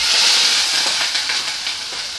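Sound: sausage (linguiça) frying in a pan

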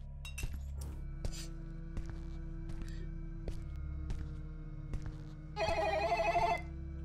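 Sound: telephone ringing in The Telephone horror video game

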